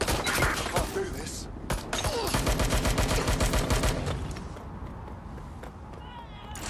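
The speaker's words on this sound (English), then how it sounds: "Shots fired! Taking fire!" Gunfire in the video game Watch Dogs: Legion rattles as dense, loud bursts of rapid shots and automatic fire, with voices shouting over it, before fading into quieter background noise.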